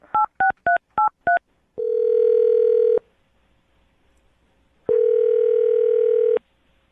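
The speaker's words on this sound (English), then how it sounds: "I'll dial the phone number and get him on the phone" A telephone gives five quick touch-tone dialing beeps in a row, then two long, steady ringback tones with a pause between them, clear and loud on a silent line.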